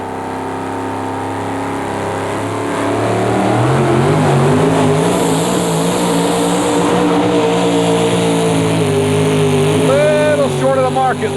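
The Three Bears Chevrolet 4WD pulling truck revs hard during an indoor truck pull at the Capital Center in Landover, Maryland, in 1991, a loud sustained engine roar with rising pitch that holds throughout, under an announcer's voice.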